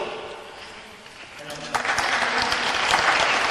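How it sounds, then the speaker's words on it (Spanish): Audience applause at a student science congress during a comedy act: scattered clapping begins faintly, then swells into a fuller burst partway through and carries on to the end, with some voices mixed in. "Puede aplaudir."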